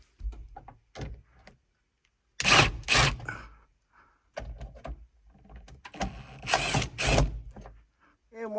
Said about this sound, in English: Just take all these screws out